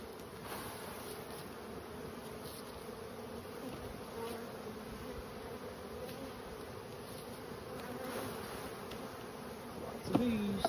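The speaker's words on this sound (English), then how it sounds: "Lots of bees." Dense bees buzz steadily all around an open hive, a constant droning swarm close by, with a brief clunk near the end.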